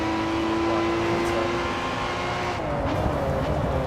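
A racing car engine in the video game GRID 2 holds a loud, steady high-revving tone, then shifts and changes pitch near the end, with continuous road and tire noise underneath.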